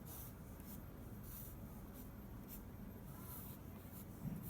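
A pen or pencil scratches out the words of a poem by hand on paper, making a soft, continuous rubbing with short strokes, faint and close.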